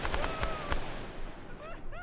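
Sharp gunshots crack in quick bursts during an Arma 3 battle, some close together like rapid fire, with fainter shots trailing off behind.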